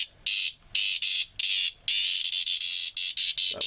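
Male cicadas buzzing in the Australian bush, loud high-pitched electric drones in repeated bursts with brief gaps, close by and steady.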